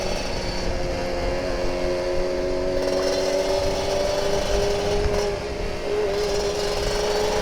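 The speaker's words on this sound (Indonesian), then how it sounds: "Knalpotnya bacot." A Kawasaki Ninja RR 150 two-stroke motorcycle with a loud aftermarket exhaust on a morning ride, a steady, raspy engine drone held at a constant pitch, close and continuous for several seconds.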